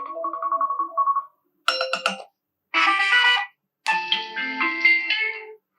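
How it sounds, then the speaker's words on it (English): An iPhone alarm tone preview plays: a series of bright, chiming electronic melodic bursts separated by short silences, clear and close with nothing else audible. "if you tap on sound, you can set a sound for your alarm"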